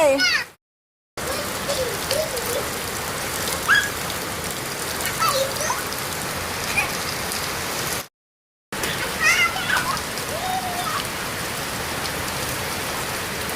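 Steady rain falling outdoors on surfaces, a dense even hiss close by with brief dropouts, while people talk over it.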